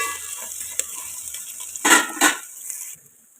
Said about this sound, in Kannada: ಇದನ್ನೆಲ್ಲ ಹಸಿ ವಾಸನೆ ಹೋಗೋವರೆಗೂ ಚೆನ್ನಾಗಿ ಫ್ರೈ ಮಾಡ್ಕೋಬೇಕು